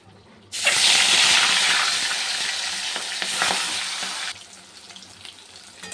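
Katla fish pieces, rubbed with salt and turmeric, hit hot oil with a sudden loud sizzle that hisses steadily for about four seconds, then drops to a quieter crackle.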